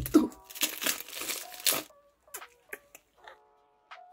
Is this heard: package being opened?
yes